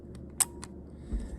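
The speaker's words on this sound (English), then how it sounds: "so I'm going to push that shutter release" A film camera's shutter release is pressed, giving a brief, crisp mechanical click followed by a couple of faint small clicks. It sounds close and quiet, with no talk.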